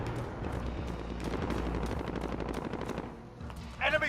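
Sustained automatic gunfire from Call of Duty: Modern Warfare, a dense rattling burst that runs for several seconds, then a short break before another loud crack near the end.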